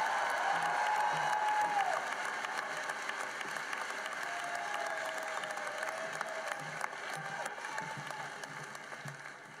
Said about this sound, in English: Please join me in giving another round of applause to the 2023 Grand Canyon University graduates